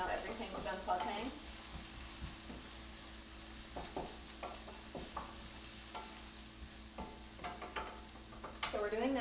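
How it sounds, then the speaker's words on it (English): Bell pepper, onion and garlic sauté in coconut oil, a soft steady sizzle with intermittent stirring scrapes and taps, a voice talking briefly at the start and end. "bell pepper and onion and garlic in 1 teaspoon of coconut oil, and I'm sauteing them over here"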